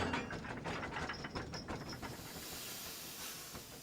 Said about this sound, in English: Slowly, Edward puffed away from Great Waterton.